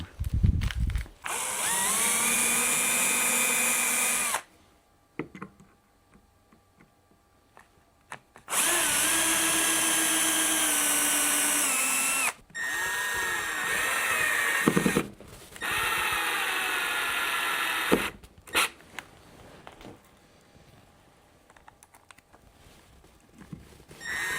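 A power drill drives screws to fix magnets into a wooden magnetic knife block, sounding as several loud, sustained whirring bursts separated by short quiet gaps.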